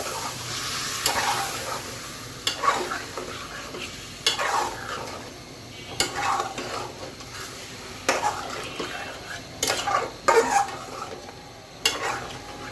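Chicken chilli stirred in a pan after red chilli powder goes in: repeated spoon scrapes and knocks against the metal come every second or two over a low, steady sizzle.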